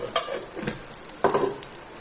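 Ghee sizzling in a pan while preparing chilli egg fry: soft, close frying crackle with a few light stirring scrapes and clinks, quiet and brief.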